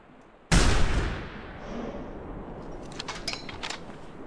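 A hunting rifle fires once in theHunter (2017) on Whitehart Island: a single loud, sharp report with a long rolling echo that fades into quiet outdoor ambience and faint bird calls.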